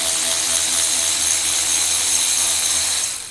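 A cordless ratchet spins lug nuts down onto the wheel studs of a 1969 Plymouth Road Runner during a front drum-to-Wilwood disc brake conversion, a steady close whirring buzz that holds for about three seconds before tapering off.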